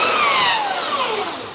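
A belt sander runs on wood in a farmhouse workshop: a loud, steady close-up whine with pitch slowly falling as it winds down, heard alone without talk.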